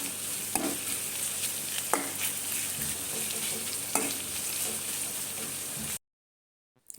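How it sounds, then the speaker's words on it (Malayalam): Onions frying in a pan for mushroom biryani give a steady, close sizzle with a few sharp stirring clanks, then cut to near silence at the end. "സവാള സെറ്റായി പാകമായി വരുന്നുണ്ട്"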